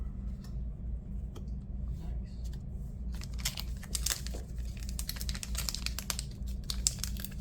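A trading card booster pack wrapper is opened with crinkling and tearing foil, crisp close rustles building in the second half over a low steady hum, with no voices.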